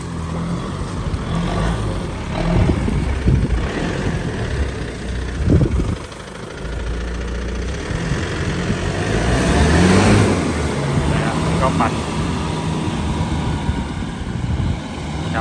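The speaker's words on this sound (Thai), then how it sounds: "ล้อหน้าปั่นได้ปกตินะครับ มันต้องใช้แรงหน่อยนะครับ เพราะว่าถนนแบบนี้มันไม่ไหวจริงๆนะครับ ค่อนข้างเป็นดินใหม่นะครับ" A 4x4 truck's engine revs hard as its front wheels spin on a freshly laid dirt road, a loud, sustained roar that dips briefly and then surges again, heard up close with no speech.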